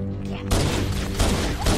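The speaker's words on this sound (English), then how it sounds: "Oh God, the Halo 1 pistol!" Halo 1 pistol in the game Halo firing, a burst of sharp booming shots after a short electronic tone, several rapid cracks packed closely together.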